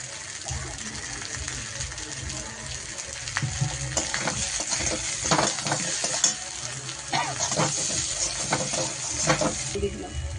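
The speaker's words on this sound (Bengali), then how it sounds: "মশলাটা কষা হয়ে গেছে ভালো করে" Spice paste stirred and fried in a pan, with a steady bright sizzle running throughout and repeated scraping strokes of the spoon against the pan, close and fairly loud, no talking.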